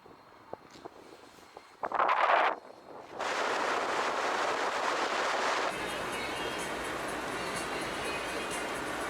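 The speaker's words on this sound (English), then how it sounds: "It's pretty windy" Strong wind roars across the microphone at the Monumento del Viento in Bolivia. A brief loud gust comes first, then a steady broadband rush that continues to the end, with no speech.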